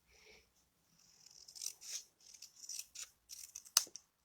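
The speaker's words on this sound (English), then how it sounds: "so we'll do a straight cut, and then we'll just cut the top of this" Scissors cut scrap paper for a stamped card in a quiet room with a string of short, crisp snips and paper rustles, soft at first and then sharper, ending in one louder snip.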